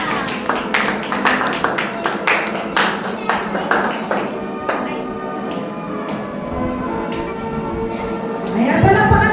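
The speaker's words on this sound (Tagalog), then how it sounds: "Ayan, palakpakan naman natin sila." Applause at a school graduation ceremony, a crowd clapping in sharp, irregular claps that thin out toward the end, with people speaking over it.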